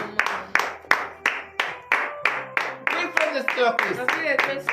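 A morning-prayer congregation claps in a steady rhythm, sharp repeated claps at close range, while voices call out and sing acclamations over them.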